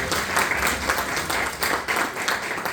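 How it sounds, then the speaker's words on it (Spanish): An audience claps steadily throughout at a book launch, a dense continuous round of applause from a room full of people, close and fairly loud with no voice over it. "Un gran aplauso para él también."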